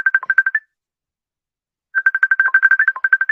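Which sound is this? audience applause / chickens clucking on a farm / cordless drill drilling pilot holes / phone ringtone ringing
phone ringtone ringing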